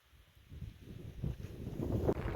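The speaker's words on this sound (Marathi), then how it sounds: "वारं पण लई सुटले" Strong wind blowing across an open farm plot with maize and tamarind trees, rising from near silence into loud, rumbling gusts that buffet the microphone and keep building to the end.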